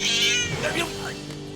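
A cat meows loudly and close, a drawn-out, wavering cry with a grumbling caterwaul quality.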